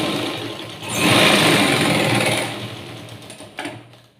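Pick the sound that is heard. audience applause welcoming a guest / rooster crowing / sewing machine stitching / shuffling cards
sewing machine stitching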